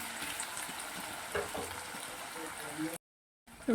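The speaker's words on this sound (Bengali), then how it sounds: "আলুগুলোকে একটু ভেজে নেব" Potatoes frying in white oil, a soft continuous sizzle with a few stirring scrapes, quiet and close, cutting briefly to silence near the end.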